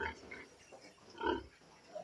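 Pigs grunt on a small farm in short, separate bursts, one louder grunt near the middle, close and clear with no talking.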